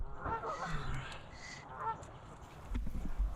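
Geese honk by a lake, several faint calls rising over soft outdoor background noise, with a low thump near the end.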